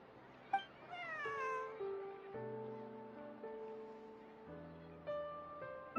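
A cat in the video game Genshin Impact gives a couple of clear, drawn-out meows near the start, followed by sustained tonal game music.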